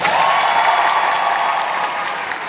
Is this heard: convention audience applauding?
yes